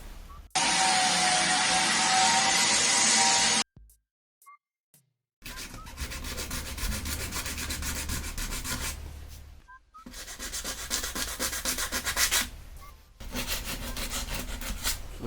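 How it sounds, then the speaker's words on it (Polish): Aluminium wheel rim being sanded by hand before spray painting, a loud steady abrasive rasping that starts sharply, breaks off briefly, then returns in long rough strokes with short pauses. "całą felgę muszę przetrzeć, żeby ta farba się trzymała ładnie"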